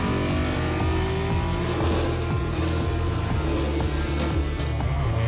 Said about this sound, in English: I'm just happy jet surfing into the sunset